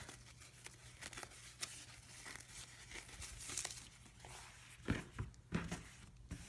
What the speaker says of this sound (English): I like to tear away the sticky stabilizer after I have trimmed the block.